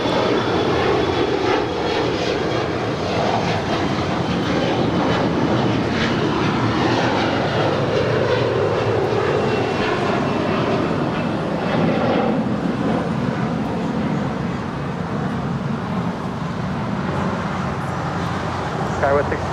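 A Zipair jet rolls for takeoff on runway 24 left at LAX, its engines a broad, steady roar in the distance that swells and holds, with a person talking over it.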